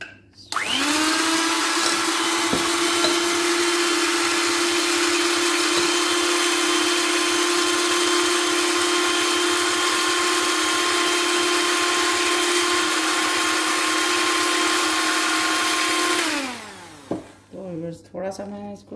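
Electric mixer beating sponge cake batter, a steady loud whirring motor drone that runs unbroken for about sixteen seconds before winding down, then a few quieter knocks and rustles.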